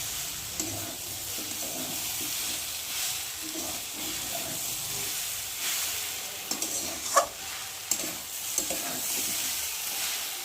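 Dal and vegetables frying in a pan, giving a steady, close sizzle and hiss with occasional stirring clinks and scrapes, without any talking.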